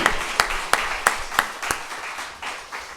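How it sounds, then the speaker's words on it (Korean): A church congregation at a revival service gives a short round of applause, with several distinct sharp claps in a loose rhythm followed by a softer spread of clapping that fades out. "고백하는 마음으로 주님께 영광의 박수 한번 드려요"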